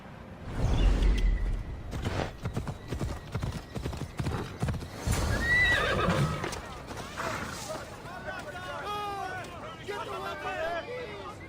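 Horse hooves clip-clop steadily while a horse whinnies and snorts in the video game Assassin's Creed Odyssey, with faint voices and movement in the background.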